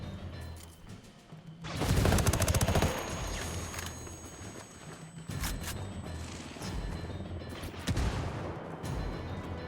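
Enemy gunfire in Ghost Recon Wildlands: loud, close bursts of rapid shots, with a dense volley first, then further cracks and bursts rattling on and off against a rumbling backdrop.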